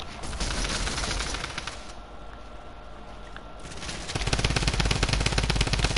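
Drum gun firing in a video game: dense rapid-fire bursts of automatic gunfire, loud and continuous, easing briefly mid-way before a heavier, faster volley at the end.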